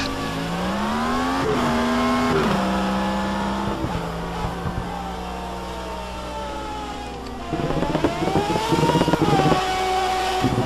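Race cars braking and accelerating at Spielberg in the PORRS G.P. racing video game: a loud, continuous engine whine that drops in pitch under braking, then climbs again as the cars accelerate, with several engines overlapping.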